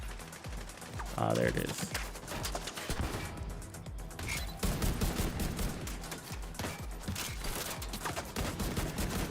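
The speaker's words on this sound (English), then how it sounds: "I hear a turret." Automatic turret fire in The Division 2 crackles in dense, rapid bursts through most of the stretch, loud and close, with a player talking briefly over the shooting.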